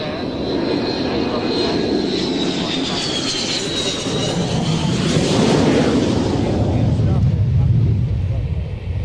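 An aircraft makes a carrier-type landing with no flare. A loud, close engine roar shifts in pitch and swells as it passes, then fades into a lower rumble.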